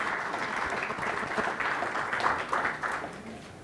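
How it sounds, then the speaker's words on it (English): Audience applause at an international galvanizing conference, a steady round of clapping from the hall that holds for a few seconds and eases slightly at the end, with no talk over it. "a big round of applause"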